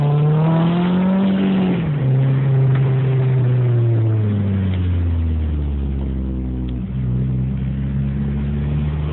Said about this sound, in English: this is a very, very clean, very good sounding exhaust.